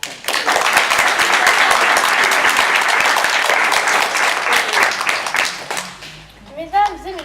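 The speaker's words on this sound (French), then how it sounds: "Je crois que nous pouvons l'applaudir." A theatre audience gives sustained, dense applause for a child playing a magician in a children's theatre contest. The clapping stays loud and steady, then fades near the end as a voice begins speaking.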